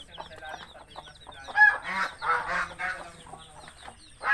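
Several chickens cluck and squawk close by in an irregular, busy chatter on a farm, with a few louder calls rising above the rest.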